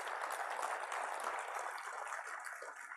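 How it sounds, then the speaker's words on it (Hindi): An audience at an Army Day Parade ceremony in Jaipur gives sustained applause honouring war widows, a dense, even wash of clapping heard from some distance. "कृपया जोरदार तालियों के साथ हमारी वीर नारियों को सम्मान प्रकट करें।"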